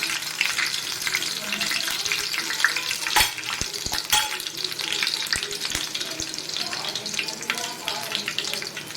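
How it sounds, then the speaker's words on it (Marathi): Garlic dropped into hot oil crackles in a loud, close sizzle with sharp pops and spoon clatters near the middle, while a voice is faintly present in the background. "तेलामध्ये हा मी लसूण टाकून घेते"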